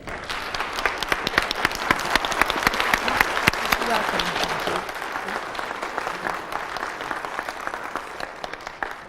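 Sustained audience applause welcoming a guest speaker at a lecture event, dense steady clapping from a sizable crowd that swells, then slowly thins toward the end.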